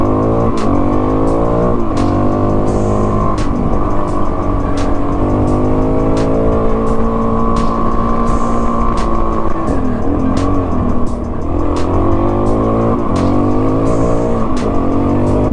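A Suzuki DRZ400 dirt bike on Kenda K270 tires climbs a small hill, its engine droning loud and close with rising and falling revs and steady wind buffeting.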